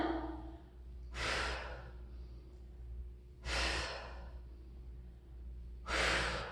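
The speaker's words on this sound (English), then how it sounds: "Breathe in as we go, 5 more, exhale up, inhale down." Heavy breathing during a dumbbell exercise, with three strong, close exhales spaced a little over two seconds apart and quiet inhales between them.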